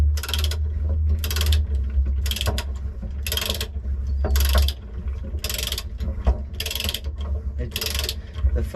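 Ratchet tightening an Anderson Ultimate fifth wheel hitch in a pickup bed, eight or so evenly spaced bursts of clicking pawl strokes over a low rumbling hum, near and moderately loud, with no voices.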